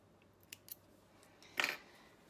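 Scissors snip sewing thread on a finished t-shirt: two faint clicks, then a single sharper, louder cut, close and alone in a quiet room.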